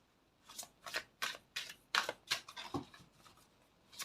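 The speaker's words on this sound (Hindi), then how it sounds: "फिर भी मैं शफल करूंगी" Tarot cards being shuffled by hand make a quick series of about eight soft riffling snaps, close and quiet, with short gaps between them.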